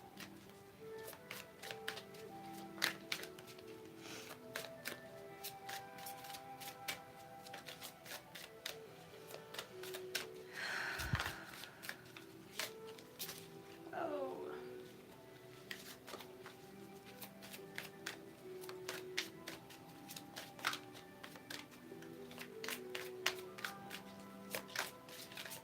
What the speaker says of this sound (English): I'm going to pull a card from the Romance Oracle deck.